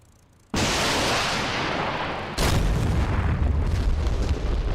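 Scud missiles launch in the DCS Persian Gulf War combat sim: a sudden loud blast swells into a sustained roaring rush, then a second launch erupts about two seconds later and keeps roaring, close and without talk.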